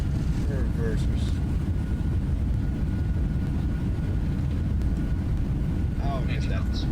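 A Boeing 767's thrust reversers roar on landing in the X-Plane 11 flight simulator, a dense, steady rumble of engine noise that fills the whole stretch, with a voice speaking briefly over it.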